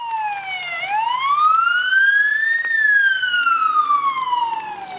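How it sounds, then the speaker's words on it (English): A loud emergency vehicle siren wails nearby in a city during heavy rain, its pitch dipping, climbing slowly, then gradually falling in a long continuous sweep. "Sirens could be heard across the city."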